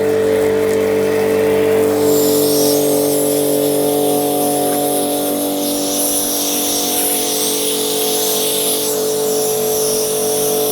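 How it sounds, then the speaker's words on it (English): A Karcher K5 pressure washer rinsing a car gives a steady, close motor drone with a bright hissing spray that runs without a break, and no one speaks. "Now I'm going to rinse it off using the pressure washer"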